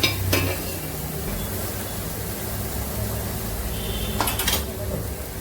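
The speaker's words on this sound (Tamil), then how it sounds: "மஞ்சள் தூளும் கொஞ்சம் போட்டுட்டு அதை புரட்டிடுறேன்." Salt and turmeric are stirred into vegetables frying in a pan, producing a continuous close sizzle with a couple of sharp metallic scrapes of a spoon against the pan.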